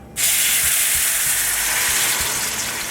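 A sesame seed and almond mixture hits a hot pan over medium-high heat, bursting into a loud, steady sizzle that starts abruptly and continues unbroken, with faint stirring thumps underneath.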